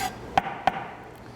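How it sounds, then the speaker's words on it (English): A knife cuts fresh basil into chiffonade on a cutting board, giving two sharp, distinct chops about a third of a second apart against quiet kitchen room tone. "Nice, beautiful chiffonade here of basil."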